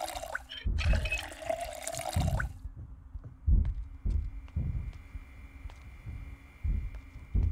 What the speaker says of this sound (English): Fill our water bottles.